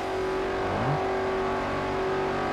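A car in Forza Horizon 4 holds a steady, loud engine drone throughout, with a brief rising rev near the start, and no talking.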